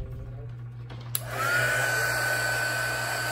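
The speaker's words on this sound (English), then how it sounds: "I'm gonna hit this with the heat gun really quickly" A heat gun blows hot air with a steady, close whoosh that switches on partway through after a quiet hum, with a brief click at start-up.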